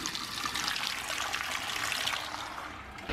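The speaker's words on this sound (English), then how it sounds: "My favourite bit was the foot-operated tap in the toilet." Foot-operated tap running water into a basin in a public toilet in London, a steady close splashing stream lasting a few seconds, with no talk.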